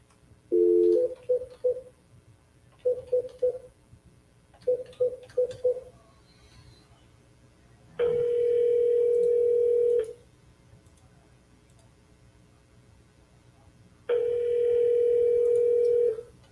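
A telephone line sounds during a sales call: short bursts of DTMF keypad tones in quick clusters, then two steady dial-tone stretches of about two seconds each, heard clearly at moderate volume with no voices.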